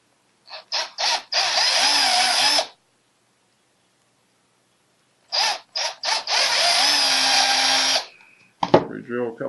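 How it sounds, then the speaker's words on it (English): Power drill boring holes into PVC swimbait lures, two separate bursts of steady high-pitched whirring each lasting a couple of seconds, close up, with a short clatter at the end. "Drill a couple holes."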